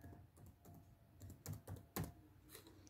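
Fingers tapping the keys of a laptop keyboard running Windows 10, a quick, irregular run of close, light clicks with brief pauses between bursts and a sharper stroke at the end.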